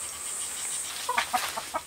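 Araucana chickens in a coop at a mountain home give a few short, soft clucks near the end, over a quiet hiss of background ambience.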